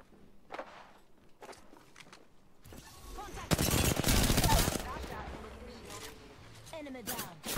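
Gunfire in the battle royale shooter Apex Legends: a sustained loud burst of automatic shots in the middle, with footsteps and scattered sharp hits before and after, and a voice speaking over parts of it.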